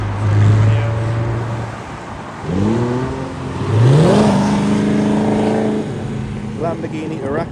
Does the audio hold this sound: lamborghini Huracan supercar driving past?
yes